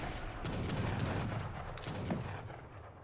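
Rockets fire in a battle in Age of Empires III: Definitive Edition, a cluster of sharp popping blasts and rumbling booms over a couple of seconds, with no voices.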